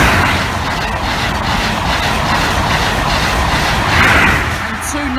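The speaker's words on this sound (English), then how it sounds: "There's an HST 43238 York." HST high speed train, class 43 power car 43238 named York, passing a level crossing at Cromwell Lane; a steady loud rushing rumble and wheel noise fills the whole span, swelling slightly near the end.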